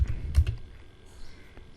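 A handful of sharp keystrokes on a computer keyboard while a command is typed into a Linux terminal, clustered at the start and then giving way to near quiet.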